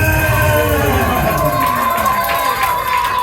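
Children and a church congregation cheer and shout together at a Christmas evening service, a loud, sustained crowd roar that carries on through the whole moment.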